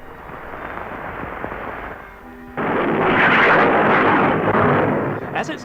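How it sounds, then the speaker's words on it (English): A Titan III rocket launch at a 1960s US Air Force site, a loud, steady, rough roar that swells suddenly about halfway through and keeps rumbling, with no talking. "It's the second most powerful rocket in the world, and it's called Titan III."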